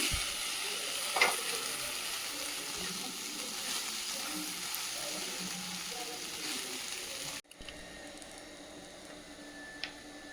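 Raw plantain slices frying in a pan, with a quiet, steady sizzle, occasional stirring clicks and a brief break near the end before the sizzling resumes faintly.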